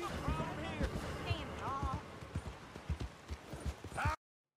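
Hooves clip-clopping at a trot in the video game Red Dead Redemption 2 beneath someone talking, the hoofbeats fairly distinct, ending abruptly in silence.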